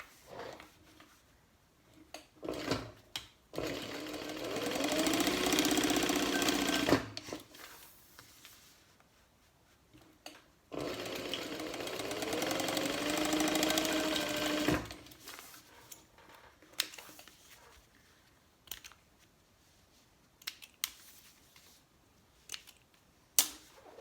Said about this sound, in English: now all we're going to do is just top stitch that edge